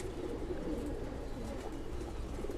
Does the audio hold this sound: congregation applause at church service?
no